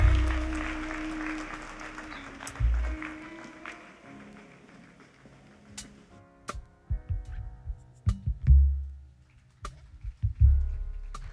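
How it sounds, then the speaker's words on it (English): A church congregation at an anointing service claps loudly for the first couple of seconds, and the dense applause then thins and fades under scattered thumps and music-like tones. "Put your hands together for Jesus right now."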